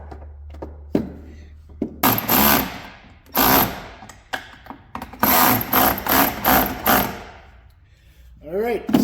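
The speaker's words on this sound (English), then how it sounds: "let's get these drilled out" Holes being drilled in the flatbed of a 2006 Ford F-250 custom build, several loud close bursts of power-tool whirring separated by pauses, with a low hum underneath and a voice speaking briefly.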